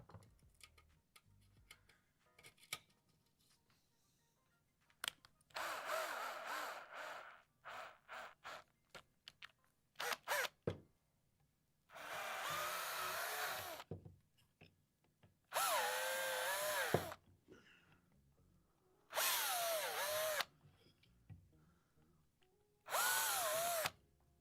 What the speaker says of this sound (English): I'm just going to drill out those holes quickly.